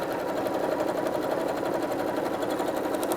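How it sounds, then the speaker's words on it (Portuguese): A sewing machine with a presser foot runs a steady, even stitching seam along the fabric of a handbag, its fast mechanical whir continuous and close throughout. "com o pé de máquina, eu vou passar uma costura aqui em cima"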